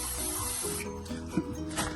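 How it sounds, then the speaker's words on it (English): WD-40 sprays onto a wheel bolt of a Nissan 350Z during a front wheel bearing job, with a short steady aerosol hiss up close, then quieter workshop sounds. "I'll be spraying some WD-40 behind onto the bolt"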